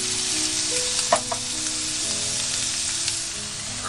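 Unagi kabayaki, glazed grilled eel, sizzles steadily in a heated pan, a loud continuous frying hiss with a few soft knocks from the pan.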